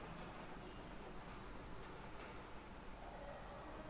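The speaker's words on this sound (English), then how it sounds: "Okay, now I have to rub the board. I am rubbing here." A board is rubbed and erased by hand during a maths lesson, making a steady rhythmic scrubbing that stays quiet and continuous for several seconds, with no voices.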